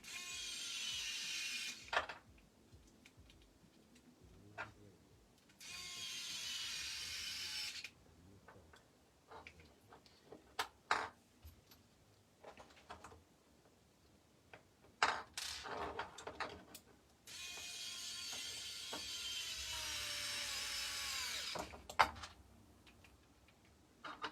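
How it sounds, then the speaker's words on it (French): Scattered metallic clicks, taps and tool handling accompany work on a Scott Genius GTC8E bike assembly, broken up by several longer bursts of broadband noise, fairly faint and close. "Donc déjà, cette partie-là, on va déjà la visser."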